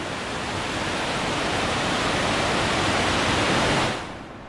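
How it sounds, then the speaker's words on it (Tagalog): Dense, steady roar of heavy rain hisses loudly and evenly, then drops off sharply near the end. "Yung pala, malakas ang ulan sa labas."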